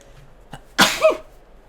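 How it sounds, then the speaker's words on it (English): One sharp sneeze bursts out close and alone, a quick breathy intake followed by an explosive voiced release. "I gotta sneeze."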